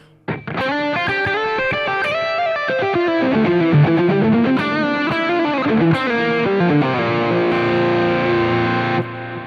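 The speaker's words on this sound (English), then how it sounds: "Now I'm going to bring in some of that delay." Distorted electric guitar melody with echoing repeats trailing each note, ringing out into a long sustained final chord.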